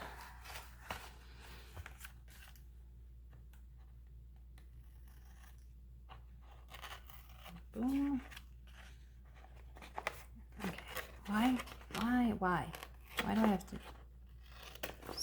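Scissors snip off overhanging paper pieces in a few short, close cutting strokes, with someone talking intermittently between the cuts.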